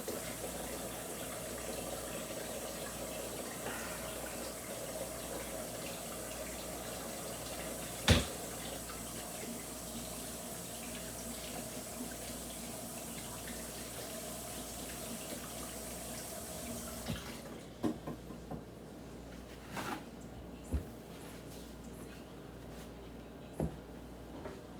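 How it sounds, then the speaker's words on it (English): Hands being washed under a running sink tap in a home kitchen, a steady rush of water that stops near the end, followed by a few faint clinks. "Let me wash my hands."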